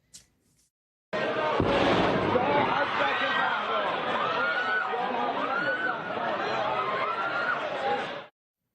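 A sharp, heavy explosion blast hits near the start in the city of Kerman, then a dense crowd screams and shouts continuously, loud and chaotic, before cutting off abruptly.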